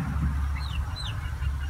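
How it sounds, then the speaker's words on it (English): Soft clucks and murmurs from egg-laying chickens roosting overhead, over a steady low background hum, close by, with a couple of brief higher chirps. "the chickens, they're roosting up there"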